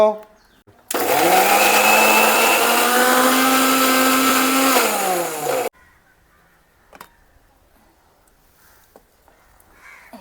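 A mixer grinder whirs through green masala paste in a home kitchen, one loud, steady motor roar with a high whine lasting about five seconds before cutting off abruptly into near silence.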